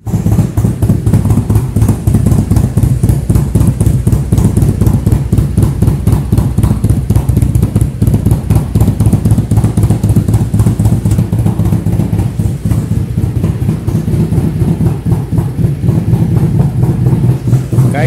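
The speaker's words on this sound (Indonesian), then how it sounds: "kita coba panasin Kaisa Ruby 1400 cc nya" A Kaisar Ruby 1400cc motorcycle engine warms up at idle, a loud, steady, close rumble with a fast, even pulse that holds without a break, with no voices over it.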